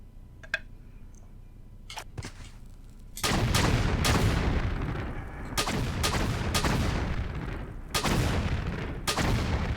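Animated Shiva statues open fire in a custom Tomb Raider level, a rapid series of loud, sharp gunshots arriving in bursts over a constant rumbling background, after a quieter opening with a few isolated clicks.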